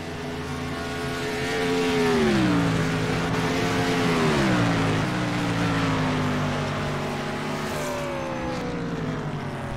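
NASCAR race cars battling on the Mountain Peak road course, a loud sustained engine roar with rising and falling pitch as the cars pass and shift, swelling midway and then holding steady.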